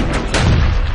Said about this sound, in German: Der wurde samt einer Platzpatrone in den Lauf gesteckt und abgefeuert.